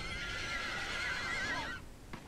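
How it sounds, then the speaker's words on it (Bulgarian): A horse in the video game Mirror Forge gives one long, bright whinny that wavers and trails off, heard alone and fairly close, followed by a brief soft knock. "Някакъв кон."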